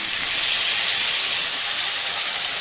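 Ginger dropped into browned onions sizzles in a hot pan for a Sahjan (drumstick) curry, a steady, loud, close frying hiss that runs unbroken throughout, with no voices.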